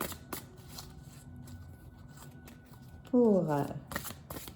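Tarot cards are shuffled near a quiet room mic, a brief crisp riffle burst near the end after soft handling sounds, while someone speaks quietly throughout.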